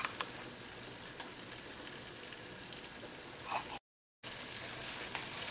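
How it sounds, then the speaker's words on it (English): Vegetables sauté in a pan with a steady soft sizzle and occasional ticks and stirring clicks, faint and close, briefly cutting out before resuming. "Just saute until your vegetables reach the consistency that you would like it."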